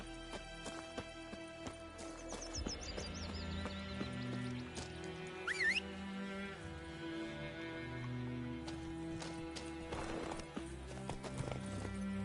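Horse hooves clip-clop at a steady trot in the video game The Witcher 3, set under an ongoing orchestral music bed with a brief whinny-like sweep, the hoofbeats moderately close and even.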